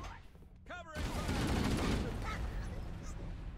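Enemy gunfire in Halo CE, a rapid rattling fusillade that swells loud after a brief electronic chirp and carries on in bursts, with voices over part of it.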